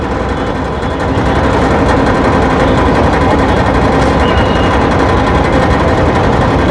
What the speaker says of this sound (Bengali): আজকে দ্বিতীয় ট্রিপের পারাবাদ 12 লঞ্চ এই মুহূর্তে ছেড়ে দিয়েছে